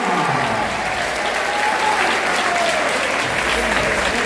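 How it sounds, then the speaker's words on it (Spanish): A crowd applauds after a boxing bout at a neo-professional championship in Galicia, steady dense clapping that fills the hall, loud and continuous throughout. "Vamos a dar un fuerte aplauso a estos dos auténticos titanes, Carlos Leiro y Raúl Luna"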